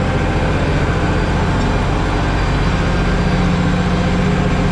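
An International Harvester 1486 tractor working a chisel plow, its heavy diesel engine a loud, close, steady low rumble that holds constant throughout with no change in pace and no voices.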